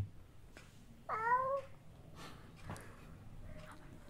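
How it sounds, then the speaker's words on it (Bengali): A cat gives one clear, fairly close meow, surrounded by quiet room noise and a few soft, faint sounds. "এটা কি ম্যাও?"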